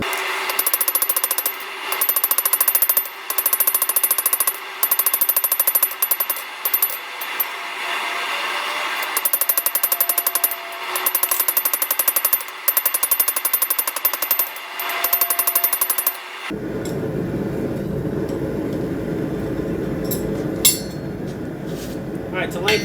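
A hot steel San Mai billet struck by a hammer in rapid, ringing bursts of metallic blows that start and stop repeatedly, loud and close, followed by a quieter stretch of lower workshop rumble.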